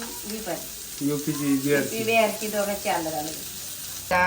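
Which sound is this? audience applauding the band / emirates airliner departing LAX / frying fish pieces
frying fish pieces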